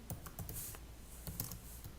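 A short run of keystrokes on a computer keyboard, close and moderately quiet, a handful of distinct clicks spread over two seconds with no talking.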